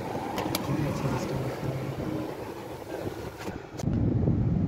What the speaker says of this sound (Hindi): अब हम गाड़ी को ड्राइव करके बाहर निकाल रहे हैं।